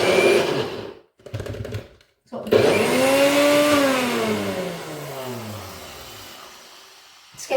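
An old blender pulses falafel mixture in short bursts, then runs in one long whining spin that rises and slowly drops in pitch, loud and close.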